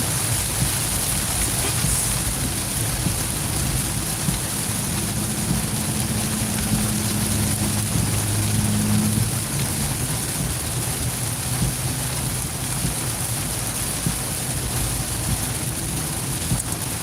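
Steady rain pours down with a dense, even hiss, and a low engine-like hum drifts in briefly in the middle.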